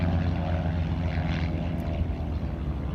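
Propeller-driven Pitts biplanes fly at the Roswell air races, a loud, steady engine drone that fills the whole clip with no talk.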